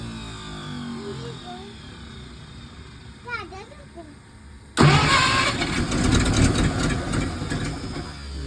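A 1951 Packard straight-eight, sitting unused for over thirty years, churns loudly on its starter after a quieter stretch with a voice, the cranking continuing steadily to the end.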